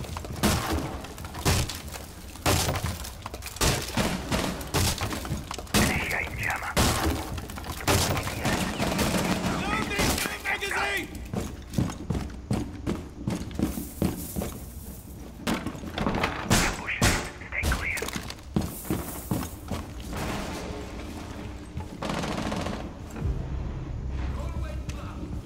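Bursts of gunfire rattle through a Rainbow Six Siege bomb match on the Kanal map, shots punching holes in a wall, with repeated loud cracks and thuds in rapid runs, and players talking over parts.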